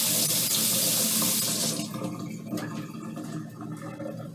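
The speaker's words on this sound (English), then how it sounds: "give it a quick rinse under cold water again" Cold tap water runs into a kitchen sink to rinse a cut onion, a loud steady gush at first that then shifts to a lower, uneven splashing as the onion moves under the stream.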